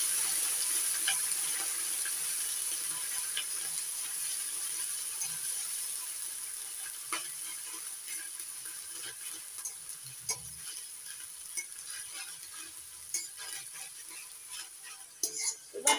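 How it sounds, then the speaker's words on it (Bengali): Onion paste fries in a pan for a fish curry with yogurt, a steady soft sizzle running throughout with occasional stirring scrapes and clinks near the end. "এবার পেঁয়াজ বাটাটা একটু ভেজে নেব"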